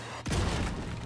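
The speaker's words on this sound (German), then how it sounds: "Granate." A grenade goes off in The Division 2 with a sudden, heavy blast after a short silence, followed by a low rumbling tail that fades slowly.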